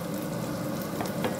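Mamaliga being stirred as it cooks in a pot, a short, steady thick bubbling and scraping texture, close up, with a couple of faint soft pops.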